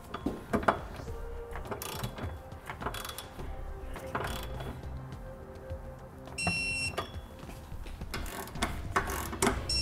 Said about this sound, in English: We're going to go through and get each bolt torqued down appropriately.